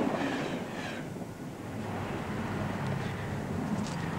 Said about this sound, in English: This is Il Pendolino, or the train that tilts